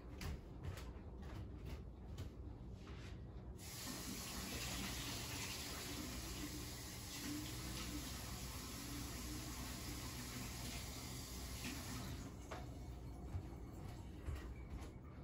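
A kitchen tap runs steadily for about eight seconds, a broad, even rush of water drawn to add to salt dough, with quieter clicks and handling noise before and after.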